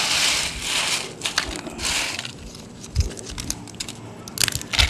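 Crisp fried green bean chips made with chili sambal crunch in close, irregular bursts of chewing and crackling, loud at first, then quieter, then rising again.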